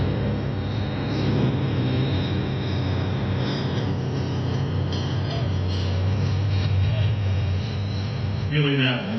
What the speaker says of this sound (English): Leading the charge was the double-rotor CH-47 Chinook heavy lifter, flanked by lethal AH-64 Apache attack helicopters and many iconic UH-60 Black Hawk utility transports